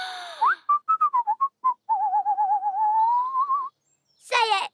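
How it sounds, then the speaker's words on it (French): Cartoon character whistling a playful tune of short rising and falling notes in quick bursts, then a longer warbling trill, ending with a brief squeaky flourish. "Betty, tu viens de siffler."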